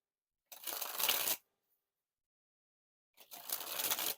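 A Theory11 Charity Water deck of playing cards is sprung from hand to hand in two quick, crisp fluttering bursts, each under a second long, with silence between them, close and clear.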